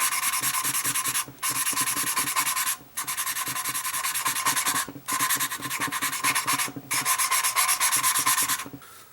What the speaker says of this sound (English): I have a lot more polishing to do